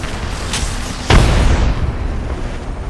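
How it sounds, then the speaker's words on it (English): A grenade blast in the battle-royale shooter Apex Legends: one loud boom with a sharp onset, followed by a rumbling low tail over steady game ambience, with a fainter pop shortly before it. "Grenade out."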